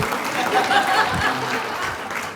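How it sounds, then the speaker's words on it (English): An audience at a community gathering claps for a man being honoured, a moderate round of applause with a few chuckles and murmurs of the crowd mixed in. "We can clap for him."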